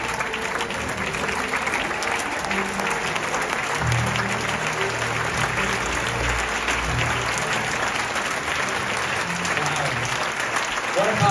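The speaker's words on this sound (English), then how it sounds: "Keep this applause going." Sustained, dense applause from a cinema audience after a film screening at a Zurich premiere event, steady and loud throughout without letting up, with faint voices underneath.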